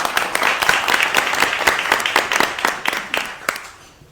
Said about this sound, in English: give yourselves a huge round of applause for making it this morning